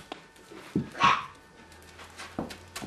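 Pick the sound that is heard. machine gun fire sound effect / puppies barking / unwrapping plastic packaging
puppies barking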